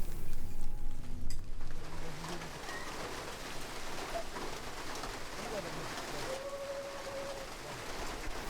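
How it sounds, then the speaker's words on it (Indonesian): Rain falling steadily on a mountain hiking trail, a soft continuous hiss that carries under light bird calls throughout. "butiran air hujan mulai menetes membasahi bumi"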